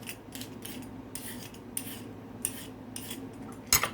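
Washed organic carrots are scraped with a peeler in short, quiet, rhythmic strokes, each a soft rasping swipe, with a sharper clink near the end.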